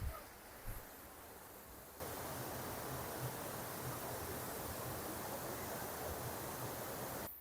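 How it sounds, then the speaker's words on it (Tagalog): Steady broadband rush of flowing water at a mountain resort in Laguna, like a nearby waterfall or stream, growing louder after a brief quieter opening and continuing without pause. "Naririnig ko na yung lagaslas ng tubig."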